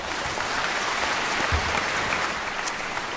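Audience at a poetry book launch welcomes musicians Bill Cunliffe and Giorgia Fiumanti with a warm, dense round of applause that holds steady and fairly loud throughout.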